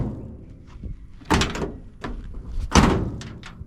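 A Ford F100 truck cab door with a washer-shimmed striker is shut twice, each a solid close slam with a metallic thunk, amid smaller clicks and handling noises in a garage setting.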